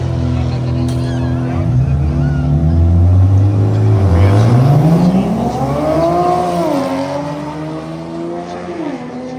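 A Ford Mustang EcoBoost and a Nissan 350Z drag race at Irwindale, engines roaring loud and revving up through rising gear pulls, with crowd chatter and voices over the noise.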